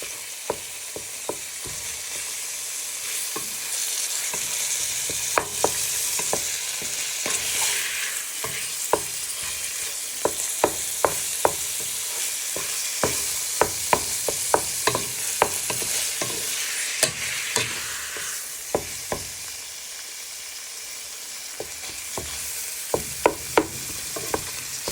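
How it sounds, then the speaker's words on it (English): Lean minced meat for a Nigerian meat pie fries in hot oil with a steady, close sizzle, while a utensil stirs and tosses it in a pan, adding frequent sharp scrapes and clinks. "Just keep tossing it in the oil so it goes nice and brown"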